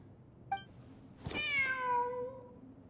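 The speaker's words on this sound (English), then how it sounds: "Wait, there it is! The cat!" A cat in the Genshin Impact video game gives a short chirp, then a long, clear, drawn-out meow that falls in pitch, heard close and alone against quiet background.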